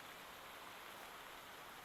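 Steady rain in a Minecraft world at night under an aurora, a soft even hiss of falling water with no distinct drops, constant and fairly quiet.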